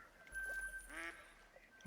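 Mallard ducks in the hunting game Hunter: Call of the Wild give a few short quacks at mid-distance over steady low game ambience, with no talking.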